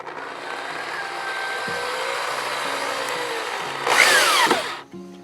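A power drill drives a screw through one board into another while a wooden gate latch is being built, its motor whining steadily and close, then rising in a louder, strained burst at the end before cutting off.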